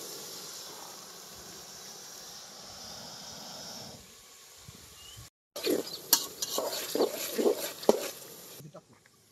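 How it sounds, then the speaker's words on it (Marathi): Onion and tomato stirred in hot oil in a pot over a gas flame outdoors on a farm, a steady hiss first, then a cut to louder clanking stirs and sizzling bursts up close. "हे कांदा वगैरे सगळं आता या टोमॅटो या तेलामध्ये टाकलेला आहे."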